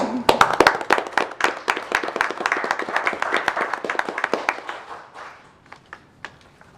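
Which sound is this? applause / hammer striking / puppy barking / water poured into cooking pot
applause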